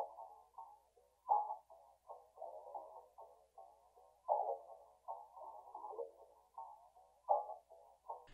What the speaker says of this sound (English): Then next I added this perc loop that sounds like this